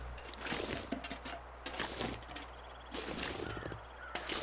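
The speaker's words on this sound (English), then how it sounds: "The crows are letting me know that." Crows in The Long Dark survival game, a series of harsh caws repeating at irregular intervals over a quiet wilderness background, fairly clear and unaccompanied by speech.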